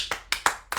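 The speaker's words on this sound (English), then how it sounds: "Clap it up for y'all." Four sharp, separate hand claps ring out at an uneven rhythm, close and crisp, as a small audience applauds.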